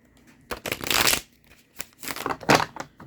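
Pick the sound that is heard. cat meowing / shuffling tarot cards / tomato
shuffling tarot cards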